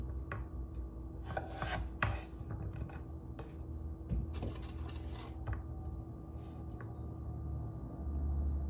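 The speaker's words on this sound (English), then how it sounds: "Okay, that's all the potatoes. They're looking good, nice and sliced up." Knife slicing potatoes on a cutting board in a home kitchen: a series of quick irregular chops and cuts in bursts, fairly close, over a steady background hum, with no talking.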